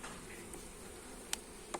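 A steady, faint hum of bees buzzing around a hive, with a couple of brief, sharper taps near the end.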